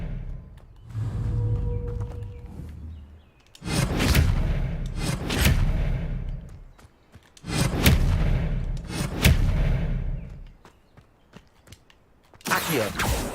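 Expelliarmus spell cast in the video game Hogwarts Legacy, heard as a few heavy booming bursts with rumbling whooshes, each swelling and fading over a couple of seconds, loud and close with no talk.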